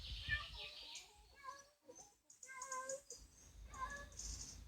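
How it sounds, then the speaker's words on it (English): A small cat meows several times outdoors on a homestead garden in northern Spain, the high, drawn-out calls fairly faint and spaced out, with soft background noise and quiet talk nearby. "Got a little pussy cat."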